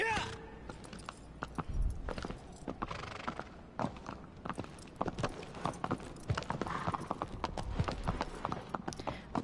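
Horse hooves clop in a brisk, irregular trot in the video game Shadow of the Colossus, close and prominent, with occasional voices speaking over the steady rhythm.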